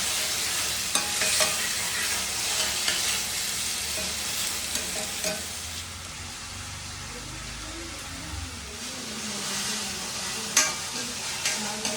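Ginger garlic paste and chicken fry in a pan with a steady loud sizzle, punctuated by scraping stirs and clinks of a utensil throughout.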